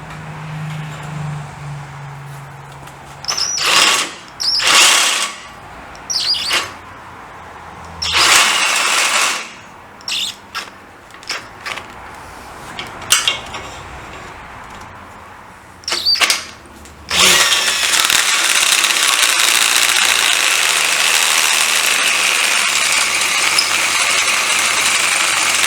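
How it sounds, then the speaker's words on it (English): A 1/2 inch drill bit cuts through metal with cutting oil on a GreeBSA 350 job, first in short whirring bursts stopping and starting, then one long sustained loud drilling run near the end. "Now I'm going to run a 1/2 inch drill through."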